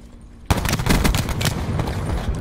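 Video game gunfire erupts suddenly after a quiet start, a dense run of loud, close shots and bursts continuing steadily to the end.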